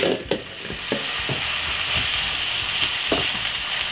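Sweet corn and callaloo fry in a pan with a loud, dense, steady sizzle heard up close, broken by a few light taps and stirring knocks.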